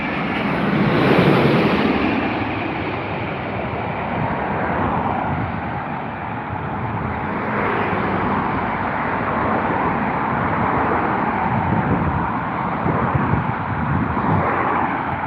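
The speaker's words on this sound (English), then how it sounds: "Here's another Dreamliner, my friends. Here we go. Go on then, lad. From Virgin Atlantic." A Virgin Atlantic Boeing Dreamliner passes at London Heathrow, its broad jet roar loud and steady throughout, swelling slightly near the start, mixed with wind buffeting on the microphone.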